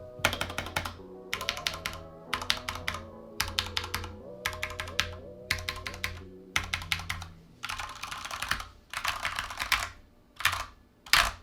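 Typing on a Corsair K65 Mini 60% gaming keyboard, rapid clusters of crisp key clacks in rhythmic bursts with brief gaps, recorded close with a resonant, slightly echoey body tone under the strikes.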